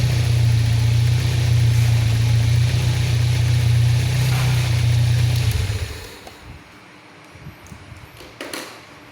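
Toyota Corona EFI engine on an engine stand idling steadily at about 700 rpm, a loud low hum for six seconds before it cuts off, leaving faint rattles and quiet background noise.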